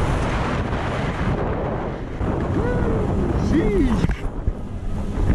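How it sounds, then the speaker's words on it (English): Strong wind buffets the microphone in a broad, continuous roar on a ski outing involving a BMW E46, loud and steady throughout, with a person speaking briefly over it. "Why is it so fucking windy?"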